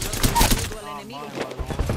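Gunfire in a first-person shooter video game: a few sharp broadband shots break through, and a game character's voice talks over the middle of the clip.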